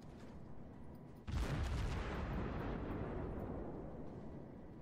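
Naval gunfire in the World of Warships game, featuring the cruiser Königsberg, breaks out with a sudden loud blast and then a sustained rumbling barrage of explosions that slowly fades.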